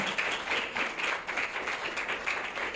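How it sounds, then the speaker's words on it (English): Applause from an audience at a book launch event in Nigeria: many hands clap in a steady, slightly pulsing rhythm, fairly close and moderately loud, with no speech heard over it. "Please, another round of applause."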